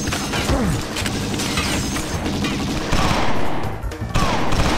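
Loud, continuous gunfire in a shootout in the video game XIII, set at a Rocky Mountains cable car station: dense overlapping shots and rapid bursts sound throughout, close and harsh, with no clear talk.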